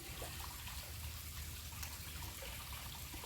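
Soft, steady trickling and splashing of water as a plant cutting is lowered into a filled container, with no talking.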